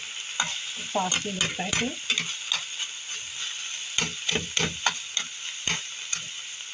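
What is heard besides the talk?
stirring minced meat in a pan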